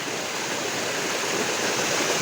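A waterfall at the Kanjeta Nalda falls in Ratanmahal Wildlife Sanctuary gives a constant, dense roar of falling water, steady and fairly loud throughout with no speech.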